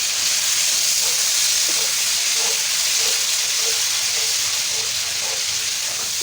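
Lahori-style tawa chicken fries on a hot griddle with chopped ginger and spices, a loud, continuous sizzle and hiss that holds evenly throughout, close by and with no voices.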